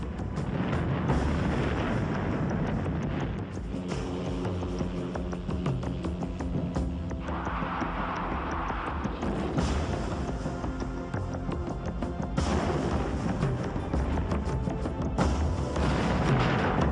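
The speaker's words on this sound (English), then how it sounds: "the gunner was able to launch a third strike against a mock convoy with a massive barrage of rockets" Rocket barrage from a Lockheed AH-56 Cheyenne attack helicopter striking a mock convoy, a sustained roar of rumbling blasts and booms that swells and surges in waves, loud throughout with no talking.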